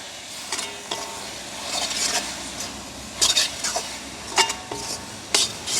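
Egg being tossed in a pan with pepper and turmeric during village cooking: a spatula scrapes and clinks against the metal in irregular bursts over a soft, steady frying hiss.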